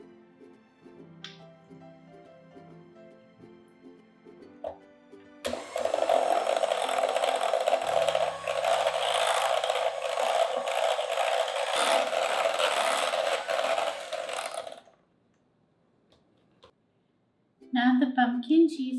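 An electric mixer blends pumpkin cheesecake batter with a few drops of orange food color, a steady close whir running for about ten seconds before stopping, with softer handling noises before and after.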